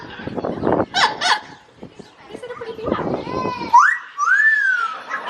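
A male Amazon parrot at a safari park calls out while flirting with females: squawks and gliding, whistle-like rising and falling tones, close and fairly loud, with a person speaking beforehand.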